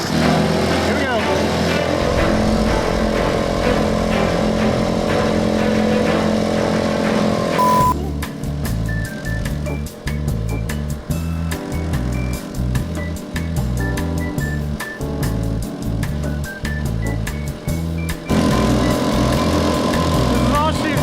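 A tiny jet boat's engine drones steadily at full throttle on the water, a loud continuous buzzing whine with a pulsing rhythm that stays even throughout.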